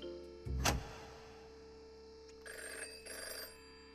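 A telephone rings inside the video game Virtual Virtual Reality, a short bright ring followed by two quieter electronic trills, heard close and alone against a faint background.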